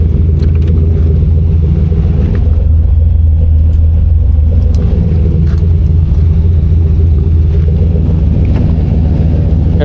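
A car with line lock holding its front brakes for a rolling burnout, a loud, steady low engine rumble that drones on without break and close up, with no voices.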